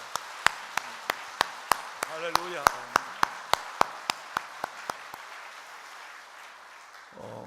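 A church congregation claps in thanks to God at a Friday evening prayer service. The claps are sharp, regular and evenly spaced, and they gradually thin out and fade. A voice speaks over the clapping, and it ends in near silence.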